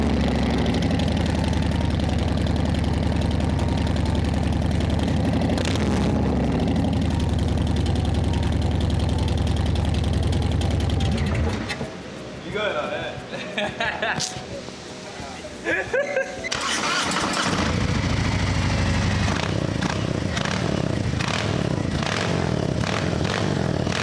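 Loud, rough rumble of an idling motorcycle engine without exhaust pipes, cutting out midway, then sputtering back to life with uneven revs and some talking.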